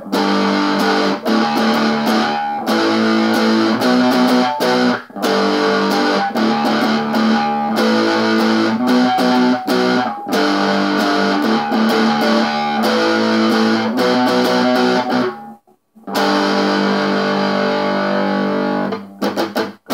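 Distorted electric guitar playing the chorus of a song, loud strummed chords in a steady rhythm with a short pause near the end before resuming.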